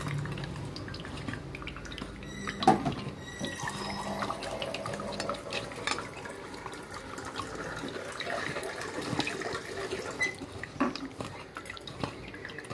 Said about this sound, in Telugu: మధ్యలో కొంచెం కొంచెం వాటర్ వేసుకోవాలి.